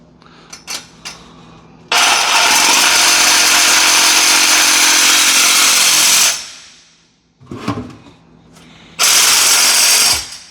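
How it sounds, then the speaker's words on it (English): A Milwaukee Sawzall reciprocating saw cuts through a drain pipe in two loud, close bursts, a harsh buzzing rasp lasting about four seconds then a shorter run, with clicks and handling knocks between. "to cut this, we're going to be using our Milwaukee Sawzall"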